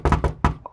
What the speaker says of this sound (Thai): แล้วก็มาเคาะประตู